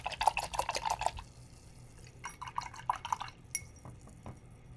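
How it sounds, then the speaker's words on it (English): Acrylic paintbrush rinsed in a glass of water during a sunflower painting, giving close, quick clinking and dripping splashes in two bursts with a pause between, then faint taps. "I'm gonna wash my brush."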